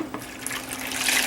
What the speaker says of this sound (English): Got a cup of water in the pot.